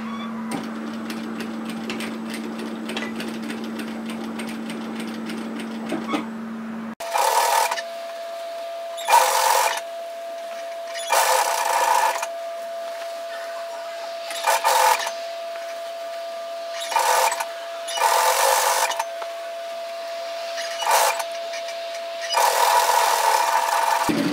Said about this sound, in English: Sew that seam at 1 centimetre, 3/8 of an inch, and then serge, tidy that edge when you're finished.